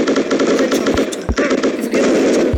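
Rapid bursts of automatic gunfire in a video game, repeated rattling volleys with brief gaps and a few heavier thumps, loud and continuous across the whole moment, with faint talk underneath.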